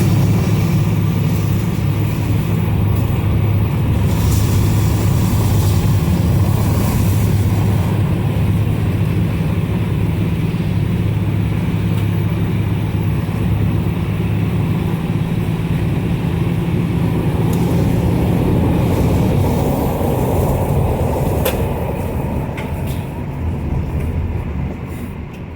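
A car engine drones steadily while driving, a continuous low rumble with road noise that stays loud and even throughout, easing slightly near the end, with no talking.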